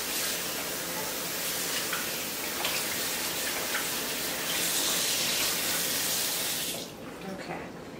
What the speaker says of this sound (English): What I'm going to do is just run it under running water.